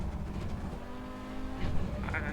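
Race car in a sim racing game braking hard uphill and downshifting, a dense engine drone with rising revs and a brief squeal near the end.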